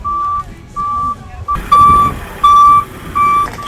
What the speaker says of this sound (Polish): Teraz będzie wyjeżdżał samochód